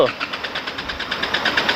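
An Isuzu D-Max pickup's diesel engine, which has been stalling, cranks with a rapid, rhythmic chugging, loud and close, as it turns over and tries to start.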